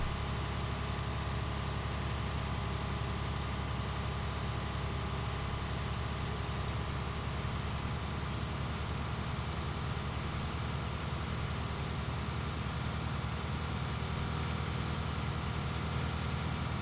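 An old combine harvester in Farming Simulator 19 runs under load, a steady droning engine with a dense low rumble and no letup, heard alone.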